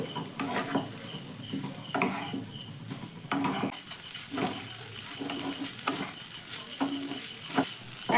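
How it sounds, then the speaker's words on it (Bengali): Boiled whole-wheat pasta tossed with vegetables and spices in a pan over a medium-low gas flame, giving a steady run of scraping and clinking stir strokes over a soft sizzle, close and fairly quiet, with no talking. "এবার এই পাস্তাগুলো সবজির মধ্যে আমি ঢেলে দিলাম এক মিনিট মতো এই মশলার সঙ্গে পাস্তাটাকে একটু নাড়াচাড়া করে নেব"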